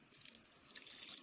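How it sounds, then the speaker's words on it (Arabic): Water pours and trickles into a pot of grape jam with sugar, a close, bright splashing stream that swells toward the end, with no talk. "نزيد له شويه ماء"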